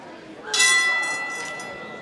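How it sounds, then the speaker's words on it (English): A wrestling match bell rings once to open the bout, a bright metallic strike that lingers and fades over a crowd murmur, with a commentator's voice running beneath it. "As the bell officially sounds"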